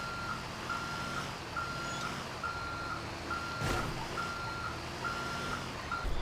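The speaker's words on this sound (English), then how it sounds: "Looks like we're gonna have to back into it." A semi truck backing a trailer into a parking lot in the GTA 5 game sounds steady, evenly spaced reversing beeps over a constant engine rumble, at moderate loudness and with no talking.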